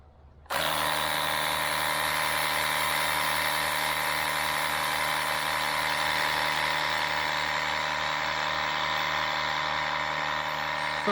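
After a brief quiet start, a cordless pressure washer motor kicks in on its pulse jet setting and runs with a steady, buzzing mechanical drone.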